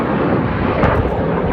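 Red Arrows jet aircraft roaring overhead at an air festival display, trailing smoke; a loud, continuous broadband engine rush with no break across the short stretch.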